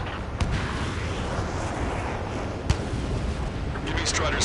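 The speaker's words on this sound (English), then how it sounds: "Gunfire and the roar of jets echoing through the streets." Gunfire and explosions over a city under martial law in the Ace Combat video game, heard as a dense rumbling battle bed with sharp isolated bangs and distant booms.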